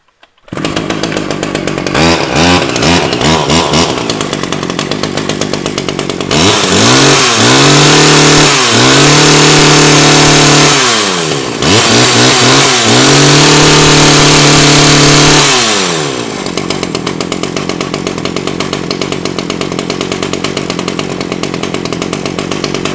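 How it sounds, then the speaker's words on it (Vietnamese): A Stihl chainsaw is pull-started and revved hard: a loud, close two-stroke engine idles, then climbs through repeated high-pitched revs that fall back between bursts, and ends in a steady idle. "con máy cưa xích Estin nhé."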